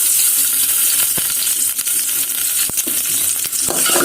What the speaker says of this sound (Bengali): তেলটা দিয়ে ভাজা করবো